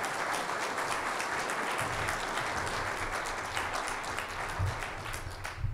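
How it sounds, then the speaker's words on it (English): An audience applauds steadily to welcome a keynote speaker to the stage at the RVAsec 2021 cybersecurity conference, a dense, sustained wash of many hands clapping that holds evenly throughout. "So if you can please help me with an applause"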